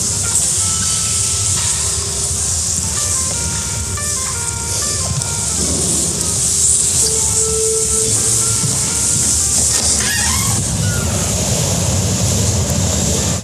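A train sits at a marble railway station, a loud continuous hiss and rumble with shifting tonal whines and mechanical tones, heard close with the noise of the station around it.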